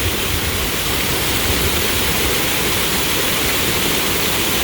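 A steady, loud rush of water runs unbroken like a waterfall or fast stream, broadband and constant from start to finish with no voices.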